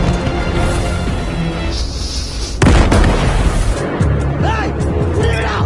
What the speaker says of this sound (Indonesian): Tak lama kemudian ledakan besar pun terjadi